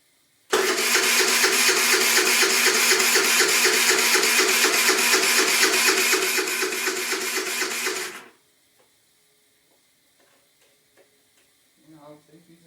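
Qlink Axon 50cc scooter engine running loud and steady with a rapid buzzing pulse for about eight seconds, then cutting off abruptly, leaving quiet background and faint sounds near the end.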